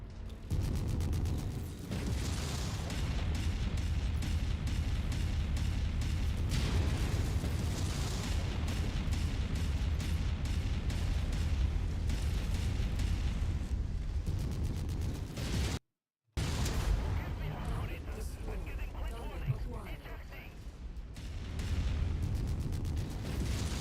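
Weapon fire and explosions from Mechwarrior 5 battle mech combat, a dense, continuous barrage of loud booms and bursts lasting throughout, broken by one brief silent gap before the firing resumes.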